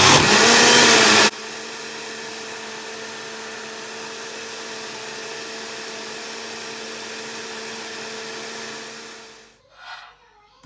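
Kitchen blender grinds rice into a milky mix for a face mask, starting with a loud burst before settling into a steady whirring hum for about eight seconds, then winding down and briefly pulsing again.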